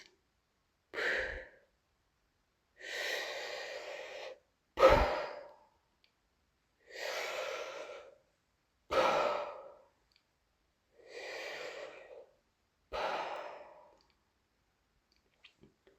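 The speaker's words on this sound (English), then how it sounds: "Breathe." Deep recovery breaths after breath-hold apnea training: seven slow, close inhales and exhales, each lasting about a second, separated by silent pauses.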